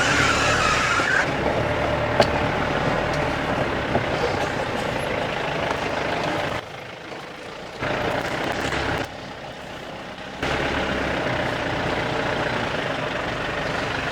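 A vehicle being driven in a rural Awadhi comedy skit, its engine and road noise a steady, fairly loud rumble inside the cab that briefly drops quieter twice before resuming.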